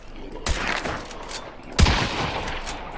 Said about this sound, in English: Shoot him in his head.